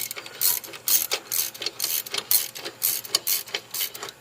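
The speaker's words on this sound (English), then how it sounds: "We're just going to tighten that up." A ratchet wrench tightens a fastener under the hood of a Subaru Baja, giving repeated close, loud metallic clicking strokes in quick bursts with brief pauses between them.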